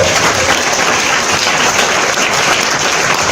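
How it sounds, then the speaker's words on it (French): A church congregation applauds the Lord, a steady dense wash of clapping that holds at full strength from start to finish with no pauses. "Acclamons puissamment le Seigneur"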